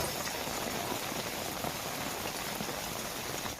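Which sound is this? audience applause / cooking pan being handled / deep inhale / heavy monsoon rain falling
heavy monsoon rain falling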